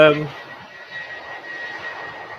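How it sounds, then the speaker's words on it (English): Inside a Virgin Atlantic jet airliner flying on 100% sustainable aviation fuel, the engines make a steady, moderate cabin roar with a faint whine, following a brief burst of a voice at the start. "Can you hear me over the jet, or is the jet too loud?"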